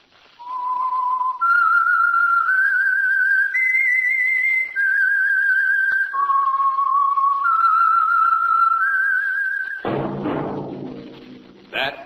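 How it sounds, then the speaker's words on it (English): Solo whistled tune opening The Whistler radio program for Signal Oil, a clear, pure melody of sustained steady notes stepping up and down, followed by a brief burst of orchestral music at the end. "That whistle is your signal for the Signal Oil Program, The Whistler."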